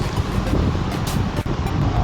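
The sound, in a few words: wind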